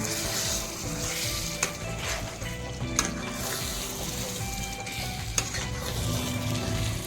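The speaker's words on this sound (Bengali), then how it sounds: "এখন আমি ঢাকনা খুলে দিলাম নেড়ে" Chicken curry with potatoes stirred in a pan after the lid comes off, a continuous sizzle with scraping spoon strokes and occasional knocks against the metal.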